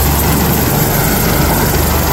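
A helicopter engine and rotor roar loudly and steadily at close range at a helipad, a dense, unbroken mechanical drone with no voices.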